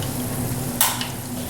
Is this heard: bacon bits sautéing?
yes